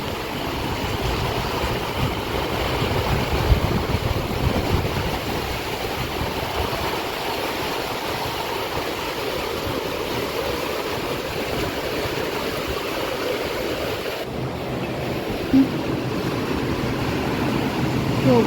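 Heavy rain driven by wind pours outside a house, a loud, even roar of downpour that continues without a break throughout.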